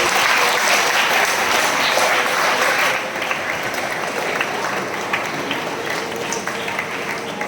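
An audience at a parish retreat gathering claps together in a dense, loud burst of applause that eases slightly after a few seconds but keeps going steadily to the end.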